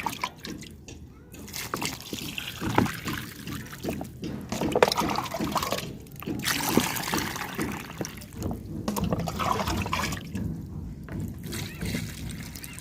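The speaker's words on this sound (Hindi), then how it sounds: "अब इसको मैं पहले पानी से पूरा भर दूंगी इसको।" Water poured from a container into a terrace plant pot packed with levelled potting soil, a steady splashing trickle with gurgling, close and moderately loud, with brief pauses between pours.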